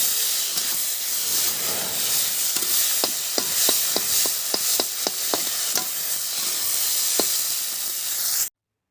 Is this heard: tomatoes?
yes